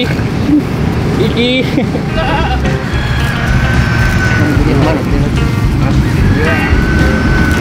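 Goats and sheep bleat loudly at a livestock purchase, the cries rising over constant crowd murmur and passing traffic, with people talking throughout.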